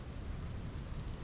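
Rain falling in the Vintage Story video game, a soft, steady hiss of drops that stays faint and even with no other sounds.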